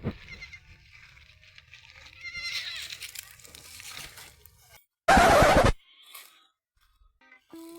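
Goats bleat in a rural field setting, with soft rustling and crunching early on, then one loud, close, strained bleat lasting about half a second, followed by quieter activity.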